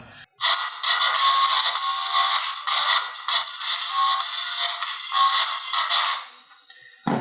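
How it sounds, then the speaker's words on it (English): A music track blares loudly and steadily from a Swipe phone's built-in speaker for several seconds, sounding bright and thin before cutting off abruptly. "This is the same track I'm playing on these phones one by one."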